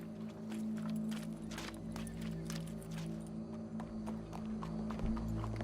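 Horse hooves clip-clop in Red Dead Redemption 2, a quiet, irregular patter of hoofbeats over a low background hum.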